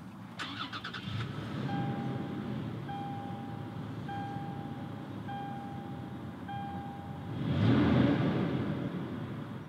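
A 2018 Toyota 4Runner TRD Pro engine starts and settles into a steady idle rumble, with a repeating electronic chime sounding over it and a brief rise in engine noise near the end.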